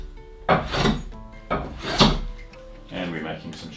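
Hand plane shaving wood at a workbench: three rhythmic rasping strokes, close and fairly loud, each a brief scraping swish.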